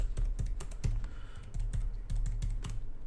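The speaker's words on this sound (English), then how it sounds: "I'm going to type the next one in" Rapid keystrokes on a computer keyboard while entering a phone number into a spreadsheet, a close, steady run of crisp clicks and thuds with brief uneven pauses, no voices over it.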